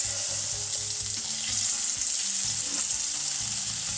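Tofu burger patties sizzle loudly in a frying pan, a dense, continuous crackle of hot oil close by, with faint background clatter and no talking.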